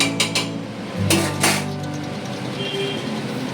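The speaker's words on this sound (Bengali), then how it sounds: "জলটা অ্যাড করার পর নিচে যাতে ধরে না যায় তার জন্য আমি একটু নাড়া দিয়ে দিই" A spoon stirs a pot after water has been poured over the cooking food, likely in a pressure cooker. It makes a few short scrapes and clinks against the pot early on, then a low steady background hum.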